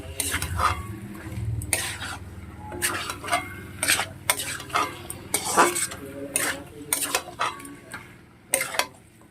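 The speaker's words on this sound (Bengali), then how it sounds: "আর একটা টমেটো কুচি দিয়ে দিলাম দিয়ে সবগুলোকে ভালোভাবে কষতে হবে" Chopped tomato stirred into a pan with spices, a spoon scraping and clattering in irregular bursts over a low, steady sizzle, with no talking.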